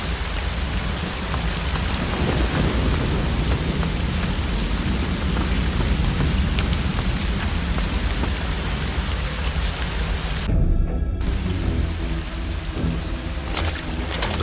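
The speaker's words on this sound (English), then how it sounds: "In this storm?" Thunderstorm with heavy rain from the video game Risen 2, a steady dense downpour with rolling thunder throughout, close and loud, with no voices.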